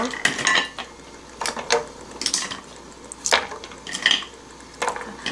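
Fresh conch shells clatter and clunk against a metal pot as they are dropped into water for boiling, a series of sharp hard knocks in several clustered bursts.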